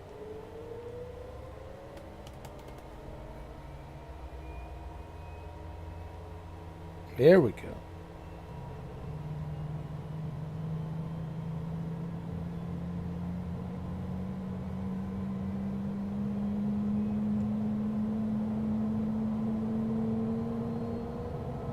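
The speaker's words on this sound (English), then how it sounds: "All right, let's turn on the engine." Aircraft engine starting up in a flight simulator game: a faint whine that slowly rises and settles into a steady low drone, with a short sharp click near the start and a person speaking briefly.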